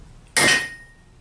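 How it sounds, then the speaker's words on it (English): One sharp metallic blow from a large Fast-Lok hammer striking a punch to set a clamp buckle, a single close, loud clang with a short ringing tail. "To set it, I use a large hammer, Fast-Lok hammer."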